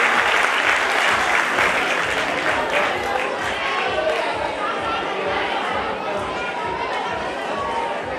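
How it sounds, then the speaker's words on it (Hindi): Loud, steady applause from a school audience honoring students at a Neev Bal Mandir H.S. event, dense clapping with crowd chatter running through the whole stretch. "जोरदार तालियां"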